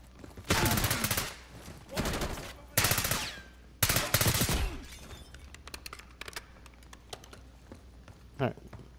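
Bursts of automatic gunfire from a Call of Duty Black Ops 6 firefight, loud and repeated in several volleys over the first half, then thinning to scattered shots, with a player talking over the action.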